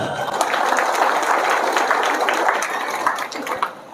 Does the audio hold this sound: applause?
yes